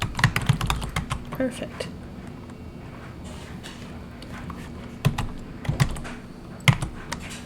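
Computer keyboard typing in short, uneven bursts of clicks, close and fairly quiet, with a few louder key taps near the end; a voice speaks briefly.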